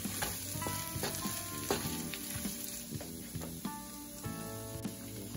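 Potato pieces and bacon sizzle and crackle in a frying pan, a busy spitting hiss punctuated by sharp pops and scraping stirs, close and continuous with no talking.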